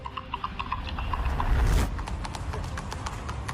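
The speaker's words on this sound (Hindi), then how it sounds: "अभिनव अब सफेद घोड़े की सवारी कर रहे हैं" A white horse being ridden, hooves clip-clopping in a steady rhythmic pattern on a hard surface, with a brief surge of engine or wind noise midway before the hoofbeats continue.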